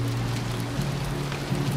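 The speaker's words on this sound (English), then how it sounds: "It's raining." Steady rain falls on a surface near a beach in the Pacific Northwest, a dense, constant patter that is close and fairly loud, with no voices.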